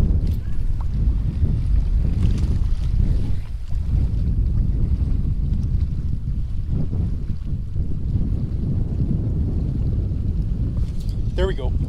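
Steady wind blowing across a lake during fly fishing for trout, a constant low rushing roar buffeting the microphone throughout, with a faint brief sound near the end.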